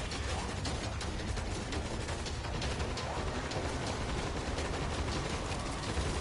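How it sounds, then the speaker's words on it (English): Dense, continuous automatic gunfire from a machine gun in the zombie shooter World War Z, a steady rattling barrage at constant loudness throughout. "I guess that machine gun's no use."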